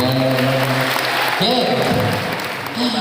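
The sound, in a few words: audience of students applauding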